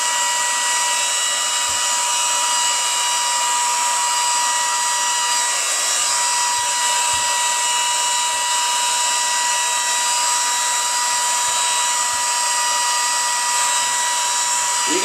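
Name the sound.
hot air blower heating wool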